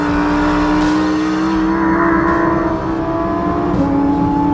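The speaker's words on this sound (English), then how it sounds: "As I get onto the street and put my foot down, the Huracan starts to accelerate with vicious intent, pouring power from the rear wheels." A Lamborghini Huracan STO accelerates hard on a street, its engine note loud, close and continuous, the pitch climbing steadily before a brief dip around a gear change and another rise.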